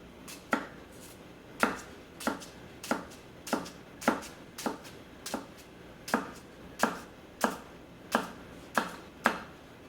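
A Katsushige Anryu 240mm gyuto knife chopping an onion on a cutting board, with about fourteen crisp, evenly spaced strikes and no one talking.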